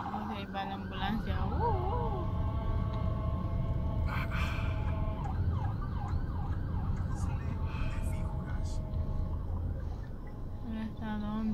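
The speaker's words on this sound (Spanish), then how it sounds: "Ok, va la ambulancia." An ambulance siren wails and warbles continuously through traffic, its rising and falling tones moderately loud, with road noise and people talking underneath.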